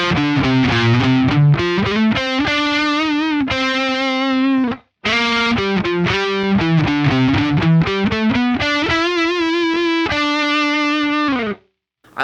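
Electric guitar on the neck pickup through an Axe-Fx III Cameron CCV 100 amp model, played in a warm, thick lead tone, a run of single sustained notes with slight distortion, two phrases separated by a brief pause.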